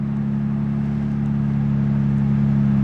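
A BMW 335i wagon's engine drones steadily while driving, a loud, even low hum with no rise or fall and no voices.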